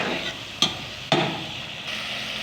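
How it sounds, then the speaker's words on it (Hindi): Chicken fries with spices in a pan under a constant sizzle, punctuated by two sharp clanks of a spoon or spatula against the pan; no one speaks. "अब इसको मसालों के साथ हम भून लेंगे थोड़ी देर के लिए"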